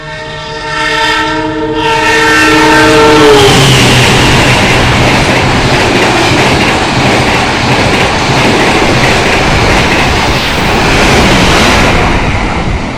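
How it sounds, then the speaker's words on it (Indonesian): The Sembrani passenger train sounds a long horn blast as it passes Babakan station. Then a loud, sustained rush of carriages and wheels roars past close by for about ten seconds. "itu tadi kereta api Sembrani sudah melintas stasiun Babakan menyusul kereta api Argo Merbabu tambahan"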